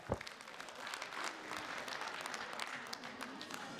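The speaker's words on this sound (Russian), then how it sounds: "Ваши аплодисменты" Concert audience applauding a performer at a Tabasaran music concert in Makhachkala, Dagestan: a continuous wash of many hands clapping at moderate distance, steady and unbroken, with no one speaking over it.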